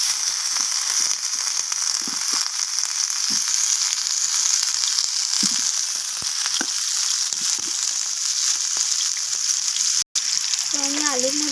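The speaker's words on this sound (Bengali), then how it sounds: "তেলটা গরম হয়ে যাওয়ার পর আমি এখানে কেটে রাখা আলুগুলোকে দিয়ে" Cut potatoes fry in hot mustard oil in a wok with a loud, continuous sizzle, broken now and then by soft stirring scrapes and ending in a brief pause.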